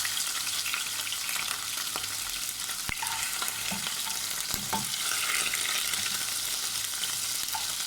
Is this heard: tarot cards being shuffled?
no